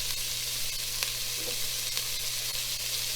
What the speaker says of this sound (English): Next, I'll add water.